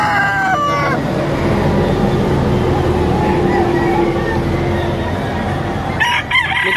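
A large black Madcap-type gamecock rooster crows loudly nearby in a long drawn-out call, with chickens and background noise around it and a brief voice near the end.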